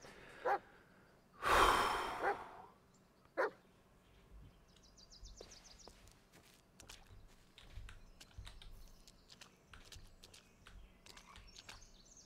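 Bullet, the dog in the horror game Blair Witch, barks a few times: two short yelps around a louder drawn-out bark near the start, followed by quieter footsteps and rustling.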